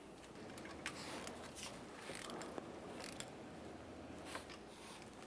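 A ratchet turning an engine mount nut through a 14mm socket on a long extension, on a 2014-2019 Toyota Corolla, with quiet repeated clicking pawl strokes in an otherwise calm workshop.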